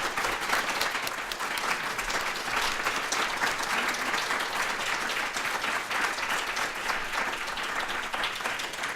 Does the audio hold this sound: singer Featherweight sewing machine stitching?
no